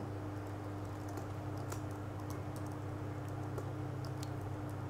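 Text is typed on a computer keyboard in quick, irregular bursts of light clicking key taps over a constant low electrical hum, with no voice.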